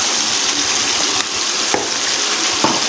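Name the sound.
stirring chicken korma with spices in a frying pan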